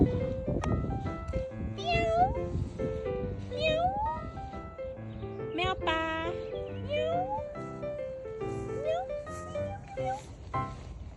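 A cat meows again and again in a rented vegetable garden plot in France, its rising and falling cries coming in a steady series over a continuous murmur of background sound.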